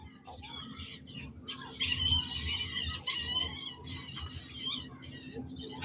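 High-pitched squeaks and chirps from a marten, repeated in short bursts over a low background rumble.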